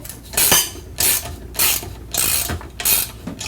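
Ratcheting clicks from a wrench tightening the clamp bolt on a Conbraco valve cover, coming in five close, loud bursts of rapid mechanical clicking with short pauses between strokes.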